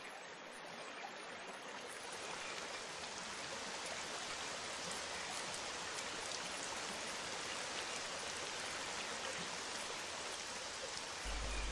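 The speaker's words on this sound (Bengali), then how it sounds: "আরে এই তো বৃষ্টি চলে এসেছে" Steady rain pours down in a Bengali fairy-tale cartoon, a dense, even hiss of falling water that holds at the same level throughout, with no voices.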